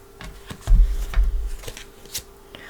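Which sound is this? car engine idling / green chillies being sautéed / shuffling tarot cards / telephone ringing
shuffling tarot cards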